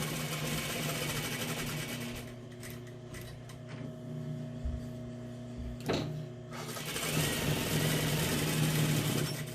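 A sewing machine runs steadily, stitching around the perimeter of a cushion cover with a 1/2 inch seam allowance, a close continuous mechanical whir with a hum underneath, slowing briefly midway before speeding up again.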